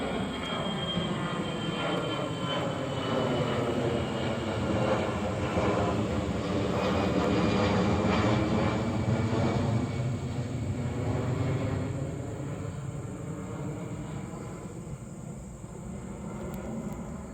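A fixed-wing aircraft roars past at an airport apiary, its broad engine drone rising and falling steadily as it passes overhead, with no talk.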